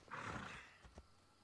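The horse Phobos in Assassin's Creed Odyssey gives a short, breathy snort or whinny up close, followed by a couple of faint hoof or step sounds, with no talking.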